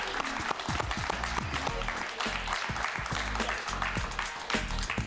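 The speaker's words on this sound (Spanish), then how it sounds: "Un aplauso para Kiko y Carla." Studio audience applause, a dense clapping that goes on steadily, loud and close, with voices faintly underneath.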